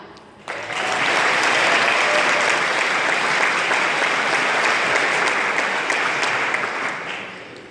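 An audience bursts into applause for award winners at a regional university recreation network meeting, a sudden onset followed by loud, dense, sustained clapping that tapers slightly at the end.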